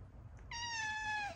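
A house cat gives a single drawn-out meow, close and clear, with a soft low background rumble underneath and no talking.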